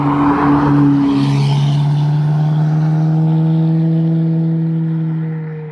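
A Ferrari leaves a car show with a loud engine tone that slides lower in pitch as the car pulls away, then gradually fades toward the end with no talk.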